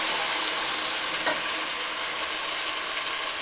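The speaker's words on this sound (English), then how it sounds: "Then we're going to add in our chopped tomatoes." Chopped tomatoes with oregano sizzle in a hot pan for a tomato pasta bake, a steady, close hiss with a faint stir clink, moderately loud and uninterrupted by voices.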